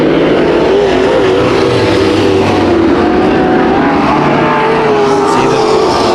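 A field of race cars roars through turns 3 and 4 at Santa Maria Raceway, several engines droning loudly and continuously together at close range.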